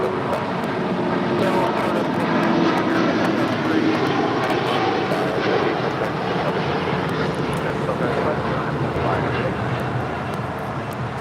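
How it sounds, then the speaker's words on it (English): Boeing 787-9 Dreamliner taking off from LAX, a sustained jet engine rumble and whine at moderate distance that eases off toward the end, with occasional background chatter. "This is a 787-9 Dreamliner taking off to Tokyo Narita"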